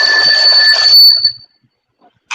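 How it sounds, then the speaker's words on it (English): An alarm clock rings with a steady, bright electronic tone, loud and close, then cuts off to near silence before a short final blip. "That's my alarm clock."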